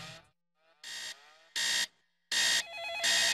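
A telephone rings for a hotel wake-up call in a room, sounding in four loud electronic bursts separated by short pauses, near and alone.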